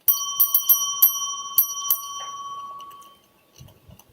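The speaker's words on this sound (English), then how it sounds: "Oh, I forgot to ring the bell." A small bell is rung rapidly several times after an auction sale, bright metallic dings that ring out and slowly decay, followed by faint rustling.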